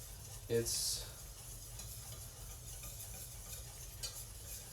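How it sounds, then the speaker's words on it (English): Milk is slowly whisked into a pan to form a paste, with soft stirring and scraping sounds, a brief louder clatter near the start and quiet background hiss. "I'm going to start slowly whisking in the milk"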